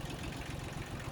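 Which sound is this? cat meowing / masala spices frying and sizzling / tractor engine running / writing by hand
tractor engine running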